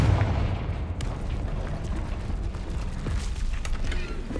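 A Confringo fire spell blasting in Hogwarts Legacy, a heavy booming burst with a rumbling, crackling tail that rolls on for several seconds, loud and close with no speech.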